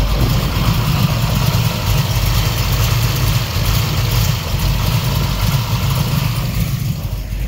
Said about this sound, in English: We got the Camaro running here this morning, got the new regulator on it